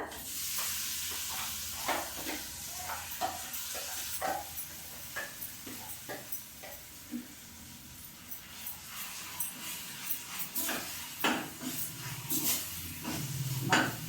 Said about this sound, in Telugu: ఇదిగోండి తాలింపులు వేగిపోయినాయి